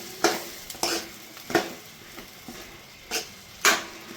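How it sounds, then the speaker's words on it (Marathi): Masala for a spicy village-style drumstick curry sautéing in a pan, a low steady sizzle punctuated by about six sharp spatula scrapes and knocks at uneven intervals, close and clear with no talk. "परत याला चांगलं परतून घेते तर ह्या बघा आपला मसाला चांगला परतलाय"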